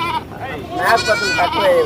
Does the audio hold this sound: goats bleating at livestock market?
yes